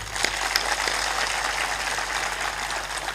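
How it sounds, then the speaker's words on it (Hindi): A congregation at a spiritual discourse applauds a saint with a dense, steady wash of clapping that sounds somewhat distant and holds at an even level throughout, with no voices rising above it. "ताली बजा दो उनके।"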